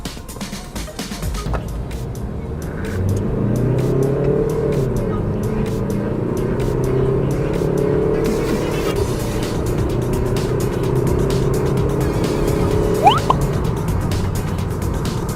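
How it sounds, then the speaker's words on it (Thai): A 2018 Mazda CX-3 1.5 XDL diesel accelerating from standstill toward 100 km/h, a steady engine drone with rising tone through the gears, heard from inside the cabin over road and wind noise. "เดี๋ยวเรามาทดสอบอัตราเร่งนะครับรถึง 100 กันนะ"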